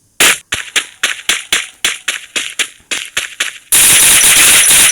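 MP40 submachine gun fire in a video game: a rapid string of about a dozen sharp, evenly spaced shots, then a loud sustained burst of continuous fire at the end.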